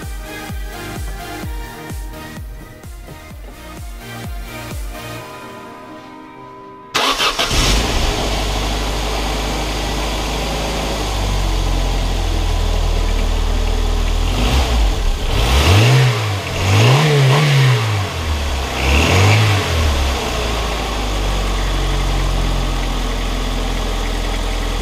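A Saturn 1.9 liter DOHC car engine cranks and catches after a spark plug change, then idles steadily before revving up and down several times, loud and close, with no talking.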